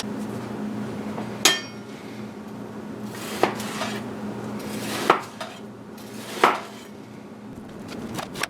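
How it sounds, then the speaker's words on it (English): A knife cutting solid deer muscle into quarter-inch slices on a board for jerky, five sharp distinct knocks spaced a second or two apart against a quiet, steady room hum. "We're going to start cutting about 1/4 inch slices"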